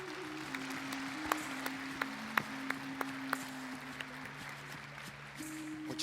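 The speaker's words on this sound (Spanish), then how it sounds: "Démosle un fuerte aplauso, por favor." Audience clapping at an academic awards ceremony for a herbal medicine day event, fairly faint and distant, with sharp isolated claps standing out over a steady electrical hum.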